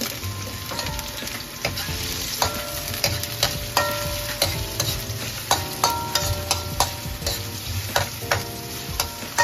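Onions frying in a pan, a steady sizzle punctuated by repeated metallic clinks and scrapes of a utensil stirring, fairly close and without talk.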